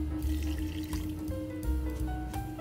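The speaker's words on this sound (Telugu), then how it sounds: "వేసుకొని అందులో పాలు వేసుకోవాలి." Milk pours into a mixer jar while making ragi java, a steady liquid splash and trickle heard close up for a few seconds with no talking.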